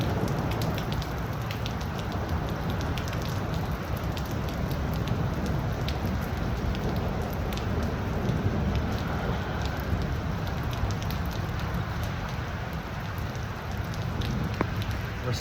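Heavy rain pours steadily during a thunderstorm, a dense, even hiss of drops beating on surfaces for the whole stretch, with no distinct thunderclap standing out.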